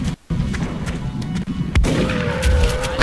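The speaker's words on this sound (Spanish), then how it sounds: "hay un disparo en toda la cara" A point-blank gunshot in the strategy game XCOM: Enemy Unknown, with several sharp booming shots and rumbling impacts over a dense game soundscape, with no talk.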